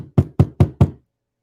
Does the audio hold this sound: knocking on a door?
yes